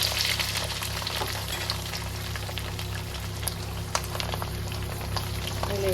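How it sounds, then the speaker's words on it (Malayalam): Garlic fries in hot oil with popping mustard seeds while pickle is cooked, giving a continuous close sizzle scattered with sharp crackles and pops, with no voices. "കടുക് പൊട്ടി വന്ന് നമ്മൾ അതിലേക്ക് വെളുത്തുള്ളി ഇട്ട് കൊടുക്കുകയാണ്"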